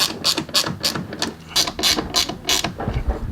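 A hand ratchet clicks rapidly in quick repeated bursts, tightening fasteners on a WeatherTech mud flap on a Chevy Blazer. The sound is close and crisp, with no talking.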